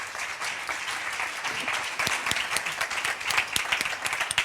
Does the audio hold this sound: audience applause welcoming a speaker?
yes